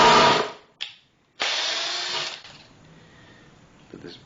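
A Ryobi P214 hammer drill bores into a piece of hard wood in two loud bursts, the first brief, then a short stop and a longer run before it winds down and goes quiet.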